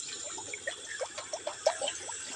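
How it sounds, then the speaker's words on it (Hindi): Water pours from above into a wok set on a gas burner to cook pasta, outdoors in a farm field, making a short run of light splashes and trickling plops over a faint steady hiss. "तो यहाँ पर हम पानी डालेंगे सबसे"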